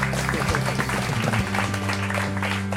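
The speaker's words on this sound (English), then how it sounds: "Let's give them a round of applause, please, ladies and gentlemen." Studio audience applauding as guests arrive on a TV consultation show, a dense steady wash of clapping under a host's voice talking over it.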